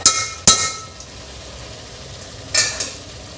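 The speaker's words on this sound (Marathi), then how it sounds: "हे तांदूळसुद्धा आपल्याला छान परतून घ्यायचे आहे." Washed rice for Maharashtrian masale bhat is stirred and sautéed in a hot pan, a low sizzle broken by a few sharp metallic scrapes and clinks of the spoon, close up with no talk.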